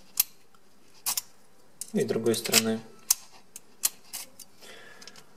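Sharp mechanical clicks of a duplicate key turning in the ignition lock of a 2018 Honda CMX 500 motorcycle, spaced irregularly and close up, with someone briefly speaking midway.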